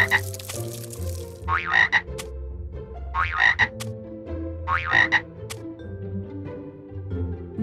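A cartoon frog in a children's numbers lesson gives three loud, rhythmic croaking bursts spaced about one and a half seconds apart, each a raspy trill, over a soft musical background.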